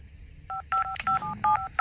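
A telephone rings with an incoming call: a short series of bright electronic two-tone beeps, about five quick bursts in an uneven rhythm, heard clearly against a quiet room.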